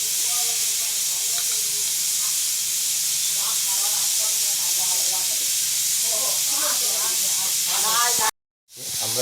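Onion and garlic frying in oil, a steady loud sizzle and hiss throughout with a voice talking over it, cut off by a brief dropout near the end.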